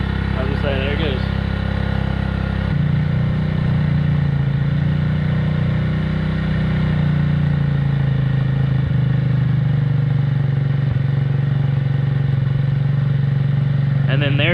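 A 50cc GY6 scooter engine idles close by, a loud, steady low drone whose pitch drops and settles partway through, with a voice talking briefly over it near the start and end.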